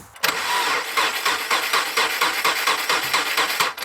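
A car engine cranks over close by, its starter churning in a rapid, steady pulse for nearly four seconds without settling into a clean idle.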